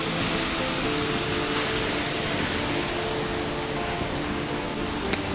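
Phe Phe Waterfall in the Jaintia Hills of Meghalaya, heard from steps close to the falls, gives a steady, loud, full-bodied roar of rushing water that stays unbroken throughout.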